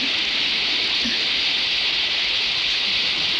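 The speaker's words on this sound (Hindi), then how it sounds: "और मूसलाधार बारिश होने लगी।" Heavy torrential rain pours down at night in a village setting, a steady loud hiss that runs unbroken through the whole stretch with no voices.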